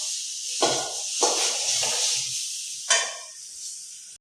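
Tamarind frying in a pan over a low gas flame for a sweet pickle, with a steady soft hiss and sizzle broken by a few louder bursts of spatter and stirring, close and with no talking.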